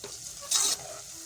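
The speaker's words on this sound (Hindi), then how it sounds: "अब इसमें हम प्याज शामिल करेंगे। और इसे गोल्डन ब्राउन कर लेंगे।" Onions frying in hot ghee until golden brown, a short close sizzle with one brief louder burst of hissing stirring in the middle, no voices.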